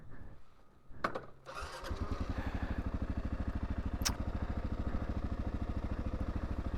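A Kawasaki KLR650 motorcycle starts with a brief cranking stutter, then catches into a steady, rapid single-cylinder idle thump that carries on close and even for several seconds.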